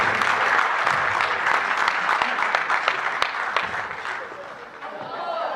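Theatre audience applauding at the end of a performance, a dense sustained wash of clapping from a crowd that stays loud and tapers slightly near the end.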